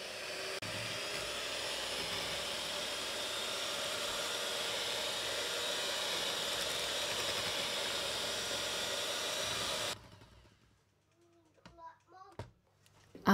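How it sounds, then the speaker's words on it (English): Electric whisk beating soft cheese and sugar for a burnt basque cheesecake, a steady whirring hum that runs for about ten seconds then stops, followed by a few faint clinks. "So you add the soft cheese and the sugar and then whisk that for a while."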